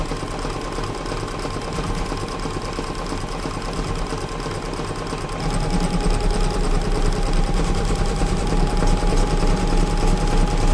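An embroidery machine stitches an in-the-hoop hand sanitiser holder with gold thread, making a continuous, fast mechanical whirring hum that grows a little louder about halfway through, close up and without speech.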